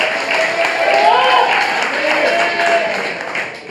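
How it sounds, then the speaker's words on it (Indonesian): A studio audience on a tvOne political talk programme applauds in a broad, continuous wash of clapping, while a voice speaks over it throughout. "silakan tepuk tangan"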